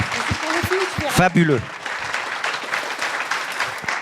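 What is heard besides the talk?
audience applause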